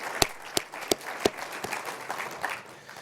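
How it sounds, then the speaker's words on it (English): At a NAFTA anniversary celebration, a few sharp, loud, separate claps ring out close by, then thin into scattered, lighter applause from the room. "So let's give Tim a round of applause"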